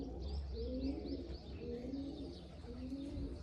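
Repeated low coos from several pigeons come in rhythmic phrases, close and fairly steady, with light chirps mixed in and no voices.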